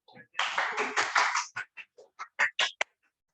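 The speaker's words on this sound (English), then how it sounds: "A round of applause to ASAA." Short burst of hand clapping from a small group at a Toastmasters club meeting, a dense patter for about a second that thins into a few scattered, separate claps before stopping.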